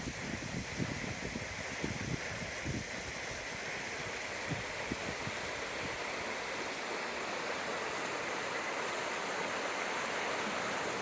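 A river flows below a Japanese ryokan suite in Koriyama, Fukushima, a steady broad rush of water that stays even and continuous, heard alone at moderate distance.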